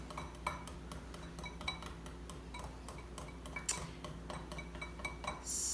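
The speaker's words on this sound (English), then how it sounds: "now I'm going to whisk this around." Barbecue sauce and brown sugar whisked in a bowl, heard as rapid, steady clinking and tapping of a whisk against the bowl, fairly quiet, with no talking.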